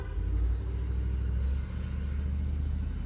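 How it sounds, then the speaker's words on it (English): A FedEx delivery truck drives past outdoors, a steady low engine rumble that holds loud for the first half, then eases slightly as it continues by, with no talking. "FedEx truck is coming."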